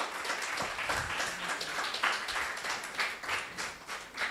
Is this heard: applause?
yes